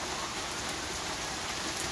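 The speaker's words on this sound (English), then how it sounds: "What do you do when it rains?" Steady rain falls outdoors near a car in an even, continuous hiss with no breaks and no voices.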